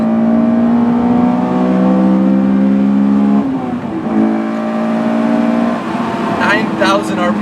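A Honda S2000 AP1 sports car engine revs hard toward its 9000 RPM redline, climbing in pitch with loud, close intake and exhaust tone, briefly dropping between pulls before rising again.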